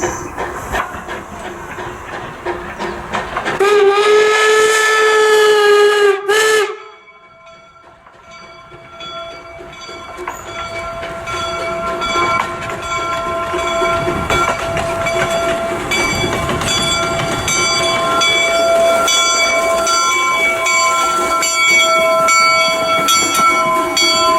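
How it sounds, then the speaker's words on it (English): A loud steam locomotive whistle sounds for a few seconds, then the train rumbles and clatters steadily closer toward the engine shed, with hissing and ringing metallic tones, at Promontory, Utah. "The whistles approaching the shed."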